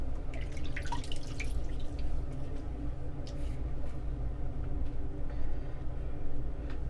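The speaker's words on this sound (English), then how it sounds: "I'm gonna get a little water on my face." Water runs and drips at a bathroom sink as someone splashes water on their face, with soft irregular splashes and trickles over a steady low background hum.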